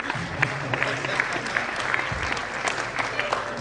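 An audience at a university prize giving ceremony claps in a steady, fairly close round of applause that carries evenly through.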